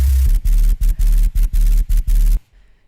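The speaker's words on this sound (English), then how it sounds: "A sub-bass with some white noise over the top, distorted." Gritty distorted sub-bass layered with white noise, an instrument from the early Doom soundtrack, struck in seven heavy, evenly spaced pulses of varying length before cutting to near silence.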